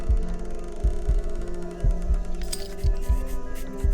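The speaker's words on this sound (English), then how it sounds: "A heartbeat. It's coming from that tree." Slow, deep heartbeat thuds throb from a tree holding an impaled man in the game Funeral for the Sun, repeating in steady pairs about once a second over a low ambient hum, with no one talking.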